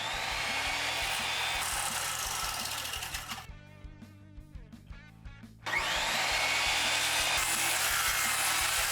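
A power saw cuts the ends off ash boards meant for a guitar body, a loud steady whine that drops briefly into a lower grinding cut midway before returning at full speed.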